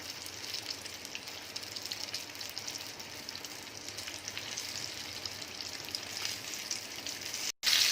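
Mixed vegetable pakoras fry in hot oil, a close, continuous bright sizzle and crackle with fine popping throughout, cut by a brief dropout near the end, no talk.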